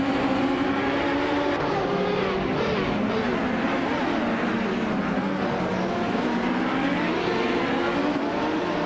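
Race cars, among them a Penske PC23, roar around the track in a racing video game, engines droning and shifting pitch continuously in a loud, unbroken stream of whining revs.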